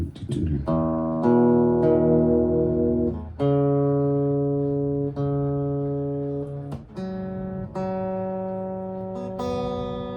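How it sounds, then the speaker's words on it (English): An electronic guitar tuner sounds a series of sustained, clearly pitched tones. Each starts sharply and rings on for a second or more before the next pitch takes over, with no talking. "Isn't it fun hearing tuner?"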